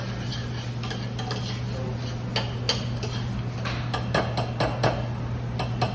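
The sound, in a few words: stirring arborio rice toasting in bacon fat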